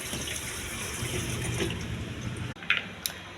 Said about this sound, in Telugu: ట్యాప్ వాటర్తో కడగాలండి